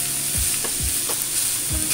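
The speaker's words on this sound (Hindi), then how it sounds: "अब मैं इसको हल्का सा फ्राई करूँगी 2-4 मिनट के लिए।" Potato and pea samosa filling frying in a pan, a steady close sizzle with a few soft scraping stirs of a spoon, no voices.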